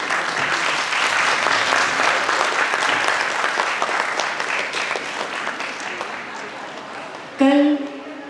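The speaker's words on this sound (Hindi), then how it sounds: "मैं आप लोगों से चाहूँगी कि बस जोरदार ताली बजा दें।" Loud, sustained audience applause on the final day of a cultural arts festival on stage, dense and steady for several seconds before fading, with a voice briefly speaking near the end.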